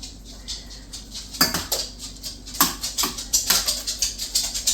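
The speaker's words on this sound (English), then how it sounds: "Then we'll flip the shrimp one last time." Shrimp turned over in a hot pan during summer pasta cooking, giving soft, irregular scraping clatters and sizzling patter that build and grow busier toward the end, fairly close.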